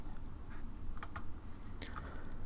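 Several scattered keystrokes on a computer keyboard click close by in short irregular bursts, with quiet pauses between them and no speech.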